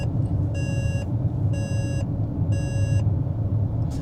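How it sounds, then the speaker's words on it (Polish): Three evenly spaced electronic chimes sound clearly from inside a KGM Musso EV electric pickup in winter, each about half a second long, over a low rumble. "Jak sami słyszycie, powiadomienia są irytujące, są głośne"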